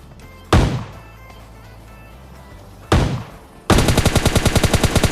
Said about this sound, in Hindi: जो आप लोगों को शॉटगन का आवाज़ सुनाई दे रहा है ना